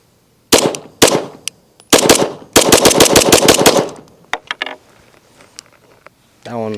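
A Staccato Prodigy 2011 pistol fitted with a Genghis compensator fires close and loud: a few spaced single shots, then a fast string of about nine rapid shots, followed by scattered softer clicks and handling noise.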